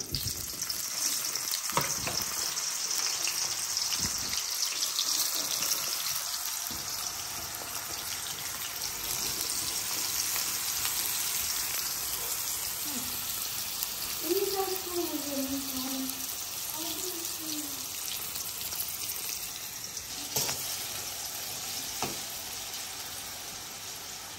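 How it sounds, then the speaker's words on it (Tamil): Eggplant pieces frying lightly in oil give a steady broadband sizzle with scattered clatters of stirring, while a faint tonal sound rises briefly near the middle. "இதை லேசாக எண்ணெயில் போட்டு ஆகலும் பொரிய விடாமல் அளவாக பொரிச்செடுப்போம்."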